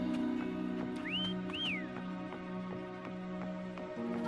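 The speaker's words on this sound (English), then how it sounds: "Try whistling." Two short rising-and-falling whistles in the Wuthering Waves video game, used to call a companion, sounding clear over a steady tonal game music bed with no talking.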